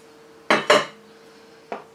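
Whisked egg whites are folded into a peanut butter and chocolate cake batter in a bowl, with two close, quick scraping clinks of a utensil against the bowl followed by one softer knock a moment later.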